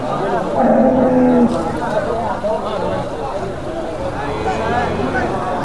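Dairy cattle at the Vaniyambadi cattle market low and moo amid a busy crowd, with several nearby calls standing out over steady chatter and someone talking throughout.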